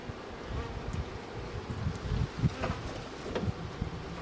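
A steady, dense drone of honeybees swarming around an open nuc hive with a collapsed frame, with low rumbles and soft knocks of hive handling beneath the buzzing.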